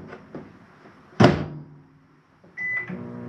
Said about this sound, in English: Self-explanatory microwave.